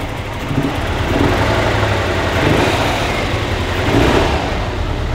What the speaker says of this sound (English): I just put a new battery and checked all the fluids on the Subaru, and I think we're ready to try to get it started.